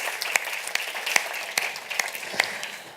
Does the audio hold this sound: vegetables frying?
no